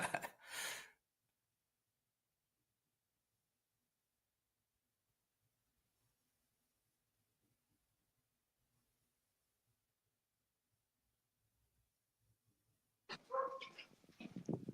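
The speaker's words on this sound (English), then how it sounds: "Dogs go crazy" Dogs barking in a house, loud close bursts at the very start and again near the end, with near silence in between.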